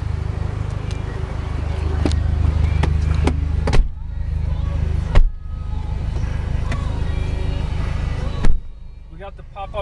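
Engine of a 2006 Mazda 6 rumbling steadily in a low, continuous drone, with a few sharp clicks and thumps from the car's interior and a quieter stretch near the end.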